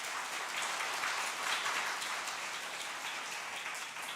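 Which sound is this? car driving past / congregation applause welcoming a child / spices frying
congregation applause welcoming a child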